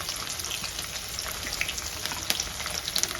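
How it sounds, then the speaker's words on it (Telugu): Crushed white gram frying in oil, a dense, even sizzle close by with scattered crackles and pops throughout. "తెల్లవాయలు అయితే వేసేయాలి ఆయిల్లో"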